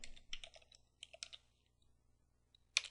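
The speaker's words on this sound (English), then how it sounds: "Let's type in ifconfig again" Bursts of keyboard typing as a command is entered in a Linux terminal during network configuration, with quick clustered key clicks, a pause, then one sharp louder keystroke like the enter key.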